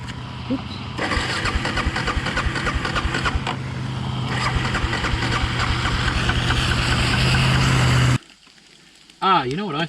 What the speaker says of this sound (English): Bike won't start, and we think we know what it is now